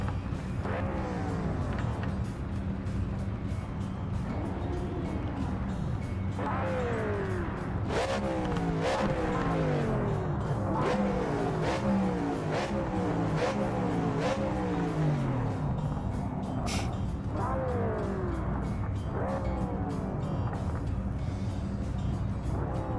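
Racing car engines in the Project Motor Racing video game, revving hard through repeated throttle bursts and gear changes, the pitch sweeping up and down continuously, loud and close throughout.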